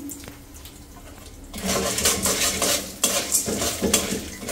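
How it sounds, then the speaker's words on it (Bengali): Food frying in a pan, with a quiet start that swells into a loud, dense sizzle and sputter, punctuated by a sharp metallic clink of a utensil against the pan. "এই যে এটা ভাজবো"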